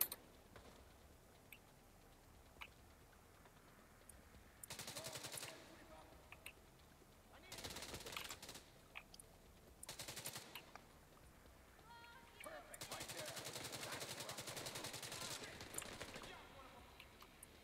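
A turret fires in The Division 2 in New York: several rapid, sustained bursts of automatic fire, each lasting a second or more, rise well above a quiet background, with the longest burst near the end.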